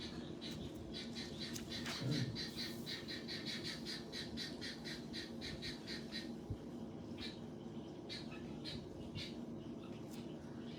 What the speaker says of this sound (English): Why the birds are here to hear? They are speaking like Hiranyakashipu